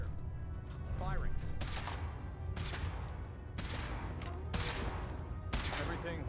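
Repeated weapon shots in the Fallout 4 video game, with several sharp blasts spaced about a second apart over a low steady hum, while people talk quietly in between.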